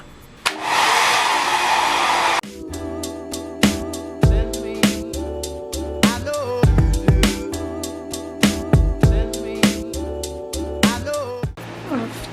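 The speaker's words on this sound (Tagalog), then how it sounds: "we're just gonna blow dry her hair" A hair dryer blows loudly and steadily for about two seconds while drying a woman's hair at home, then shuts off, leaving music playing over the rest.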